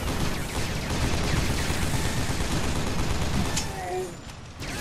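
Rapid, dense gunfire from a free-to-play shooter video game rattles continuously and loud, a sustained fusillade with brief tonal blips near the end.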